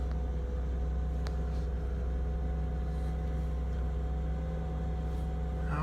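A 1999 Ford Explorer 4x4 engine runs at a steady, low idle, a faint continuous hum and rumble with no clear change in pitch.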